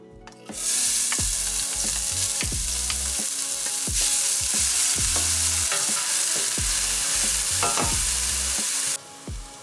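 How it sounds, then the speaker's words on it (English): Chopped onion sautéing in a pan for lasagna, a loud, dense sizzle that swells in after a moment and stays steady, with regular scraping stirs of a utensil throughout and no voices. "Let's get those aromas going by sauteing the onion until it's translucent"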